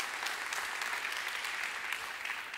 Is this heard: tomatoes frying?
no